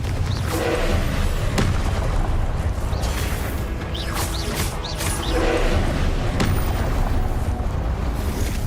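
Confringo spell explosions in the video game Hogwarts Legacy, a run of loud booming blasts and crashes over dense game noise, several sharp hits spread across the stretch.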